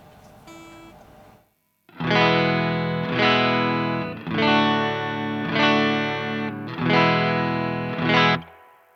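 Clean electric guitar on a Stratocaster middle pickup, with a few quiet plucked notes, then five loud strummed chords that ring and decay in a slow, even rhythm.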